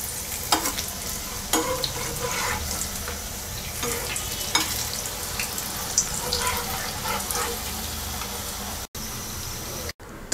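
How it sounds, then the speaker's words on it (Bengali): Cauliflower kebabs fry in hot oil with a loud, continuous crackling sizzle, broken by occasional utensil knocks and scrapes and a couple of brief dropouts near the end. "বাকিগুলো ভেজে নিচ্ছি।"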